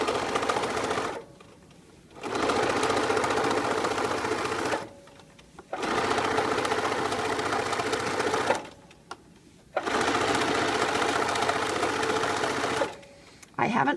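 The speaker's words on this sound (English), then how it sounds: "continue stitching to your next corner" A sewing machine stitches French binding in three long steady runs of fast, even whirring, each cut by a brief quiet pause, with a voice talking faintly in the background.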